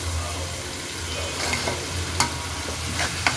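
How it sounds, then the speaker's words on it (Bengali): Ginger, garlic and onion paste frying with spices, a steady sizzle under a low kitchen hum, stirred with a spoon that gives a few sharp taps against the pan. "মশলাগুলো একটু ভালো করে কষানো হোক"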